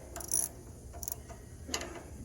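Nuts holding the air filter onto the carburetor of a Honda GX240 small engine are loosened with a ratchet, giving a few short, close metallic clicking bursts separated by quiet gaps, with no talking.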